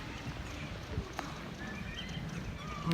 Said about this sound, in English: Dude on a horse over there.